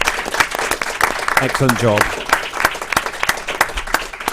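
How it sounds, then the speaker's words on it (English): A small group claps briefly for two podcast guests at a live recording, a quick scattered round of applause with a voice speaking in the middle. "we should just give a quick round of applause to Nick and Neb"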